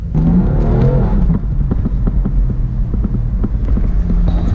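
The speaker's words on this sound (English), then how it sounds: "let's drive around for like maybe more than 30 seconds" A BMW M4 on Federal ST-1 tires drives steadily, its engine a loud, constant low hum and throb heard from inside the car, with brief mechanical ticks and clunks scattered over the drone.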